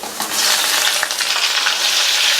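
Ground small shallots sizzling in hot oil with garlic in a pan for a brinjal kuzhambu, a bright continuous frying hiss with occasional stirring scrapes, close and loud.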